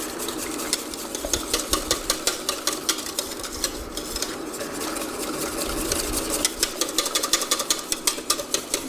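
A whisk beats black pepper into a brisket ragu sauce in a pan, making rapid rhythmic clinking and scraping strokes that pause briefly and resume, close up, with no talking.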